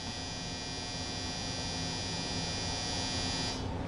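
A clothes dryer runs with a steady, continuous electric hum and buzz, close by and alone, with no voices.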